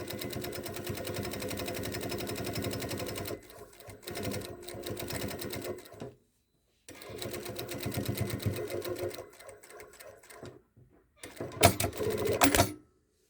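Sewing machine stitching a second seam close to the first inside the seam allowance of a raglan pocket, running in steady whirring bursts with short pauses between runs, close and clear with no talking.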